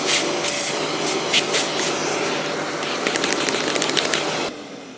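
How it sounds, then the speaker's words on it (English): A dust extractor nozzle vacuums out the dust bag of a Festool compact sander, a steady rushing suction with rattling, clicking bursts as debris is pulled through, then cutting off near the end. "you could wait until you get back to base and just run your extractor nozzle"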